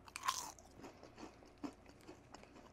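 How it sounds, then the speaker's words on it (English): A folded-over Lay's potato chip being bitten and chewed, with one sharp close crunch at the start followed by several quieter crackling chews, with no talking. "It's an extra crunchy potato chip."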